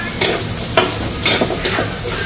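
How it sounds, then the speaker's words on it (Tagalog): Garlic fries in hot pork fat with a loud, close, continuous sizzle, and several sharp spatters and stirs punctuate it. "Okay, lalagay ko na po yung bawang."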